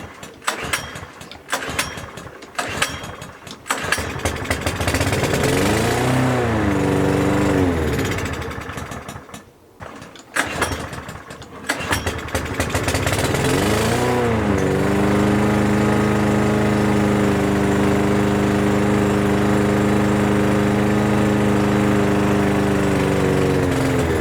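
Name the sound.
small engine starting and running with blocked fuel jets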